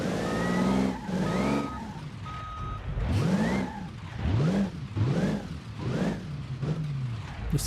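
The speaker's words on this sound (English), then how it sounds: "This car has a lot of power" A powerful car engine in a driving video game revs repeatedly, its pitch sweeping up and down in a series of rising whines with short high beeps early on, loud and steady with no talk.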